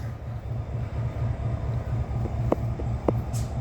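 An Australian freight train works the Bluescope steel yard, its low rumbling drone steady and moderately distant throughout, with a few sharp clanks near the end.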